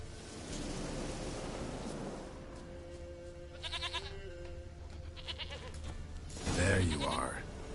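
A goat bleats in a PlayStation 4 video game, several short wavering bleats set against a steady, rain-like background hiss, with a louder bleat near the end.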